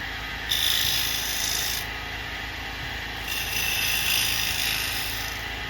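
Scraper cutting wood on a lathe while a scalloped bowl is turned, a steady rasping hiss over the lathe's hum that swells in two long passes with a quieter pause between them.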